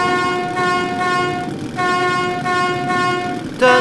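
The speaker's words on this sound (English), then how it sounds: "I am honking the horn!" A train horn blares in the Metro 2033 video game as a loud, sustained, reedy chord, sounding in three long honks separated by brief gaps, with a sharper burst at the end and no talking.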